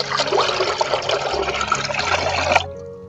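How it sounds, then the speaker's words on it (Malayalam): Water is poured into a homemade organic fertilizer mixture for orchids, a close, steady liquid gush with bubbling and splashing that runs for a few seconds, then cuts off abruptly near the end. "2 കപ്പ് വെള്ളം ആണ് ഞാൻ അതിനകത്ത് ഒഴിച്ചേക്കുന്നത്"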